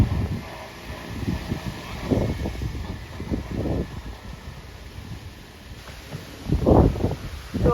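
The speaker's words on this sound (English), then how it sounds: "God, it's so windy, guys." Gusty wind buffets the microphone in rough, uneven bursts, with a strong surge near the end, beside a broken Fiat 500; no talking.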